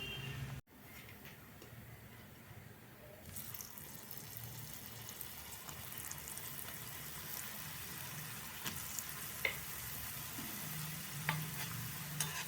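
Salted seedai rice balls fry in hot oil, giving a continuous soft sizzle and bubbling with faint stirring clicks, steady and moderately quiet throughout, no voices.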